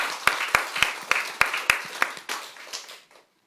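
A church congregation claps together in a steady, even rhythm, about a dozen sharp claps close by that taper off and stop.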